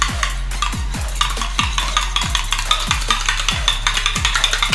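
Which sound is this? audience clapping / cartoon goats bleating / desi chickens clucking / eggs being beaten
eggs being beaten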